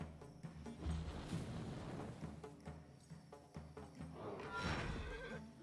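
A horse in the Wartales video game neighs and whinnies softly in the background, with clip-clopping hooves and faint game ambience, the whinny rising clearly near the end.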